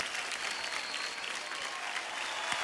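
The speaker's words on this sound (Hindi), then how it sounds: "जोरदार तालियां हो जाए।" Loud, dense applause from a studio audience on a TV dance competition show, continuous and even throughout, with no speech over it.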